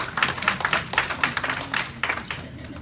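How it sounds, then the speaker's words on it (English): Audience clapping at a mayoral re-election campaign event, a steady patter of many hands that rises and falls in several bursts, moderately close and without talk over it. "That's a good reason to clap."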